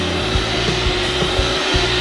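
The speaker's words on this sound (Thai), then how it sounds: "เราใช้แค่ดันเครื่องดูดฝุ่นไปข้างหน้าแบบนี้นะครับ" A Hoover Spotless Go upholstery and carpet cleaner runs at a steady, loud whirring drone, with faint rhythmic thumps as it is pushed forward, and no talk over it.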